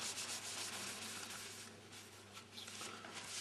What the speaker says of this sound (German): kann man dann noch ein bisschen trocken reiben